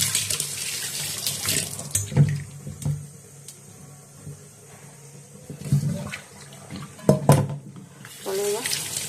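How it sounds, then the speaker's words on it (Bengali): Tap water running in a sink while shrimp are rinsed by hand, several bursts of splashing flow separated by quieter moments of handling, with a voice talking briefly over it. "আর চিংড়ি মাছটা বেছে নিয়েছি, এবার ধুয়ে নিই।"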